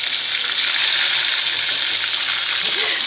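Tempe frying in a pan gives a loud, steady, dense sizzle that fills the whole stretch without pause, close and continuous.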